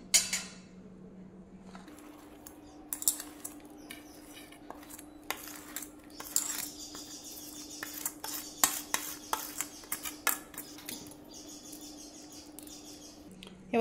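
Ingredients being stirred into melted jaggery in a pan, gas turned off: repeated scraping and clinking of a spoon against the pot, fairly close, with faint birdsong in the background and no talk.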